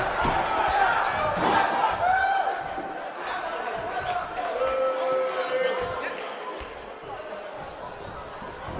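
A roaring arena crowd cheers in the WWE 2K19 wrestling game, a constant loud wash of voices heard under lively commentary.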